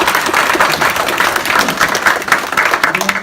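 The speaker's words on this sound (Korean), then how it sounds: "박수 한번 부탁드립니다." An audience at a Volkl ski academy event claps for an invited director. The applause is dense and steady, a continuous wash of hand claps that stays loud and even throughout, with no speech over it.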